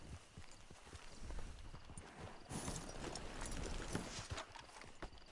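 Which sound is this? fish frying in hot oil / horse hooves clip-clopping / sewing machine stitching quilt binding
horse hooves clip-clopping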